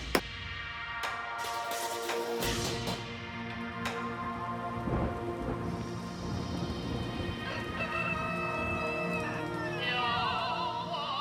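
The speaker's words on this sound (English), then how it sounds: "This morning, it is raining on Ma Anchang, Long Yin's village." Rain falls steadily on a Miao village, Ma Anchang, in the Zhangjiajie region of Hunan, a dense continuous patter with occasional louder drops, accompanied by sustained tonal sounds throughout and no talking.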